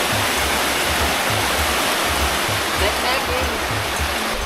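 A small waterfall along a rocky mountain stream at Sapang Uwak in Porac, Pampanga: steady, dense rushing and splashing of falling water, loud and close, continuous throughout with no break.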